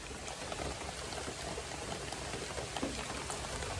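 Rain falls on an oil palm plantation, a dense, even patter and hiss of drops that holds at a steady level throughout with no voices.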